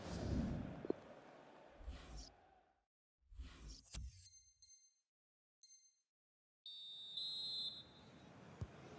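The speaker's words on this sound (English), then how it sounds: "And the whistle is sounded for half-time in this." A referee's whistle blows for half-time in a FIFA Ultimate Team football video game: two short, sharp high blasts followed by a longer shrill blast, in and around bursts of game noise.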